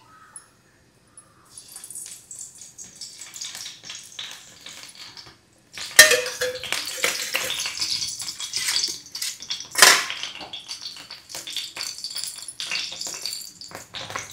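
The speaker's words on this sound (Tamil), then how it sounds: "எண்ணெய் சட்டியை போட்டுரும்" A metal oil pan is set down on a home stove and clatters as it is handled, with sharp knocks and scrapes of cookware in a quiet kitchen, loudest near the middle. No voices are heard.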